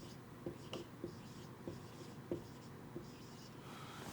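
A pen writes on paper in short scratchy strokes with soft taps at each new mark, close and quiet over a faint room hum, while figures from an income statement are jotted down.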